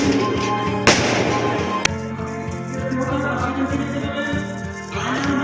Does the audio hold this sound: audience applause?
no